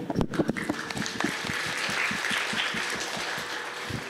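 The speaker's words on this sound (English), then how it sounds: "So a huge round of applause to all of you." An audience at a spiritual lecture event applauds the guest speakers, steady clapping from a crowd with a distinct rhythmic beat of claps running through a broad, even wash of sound.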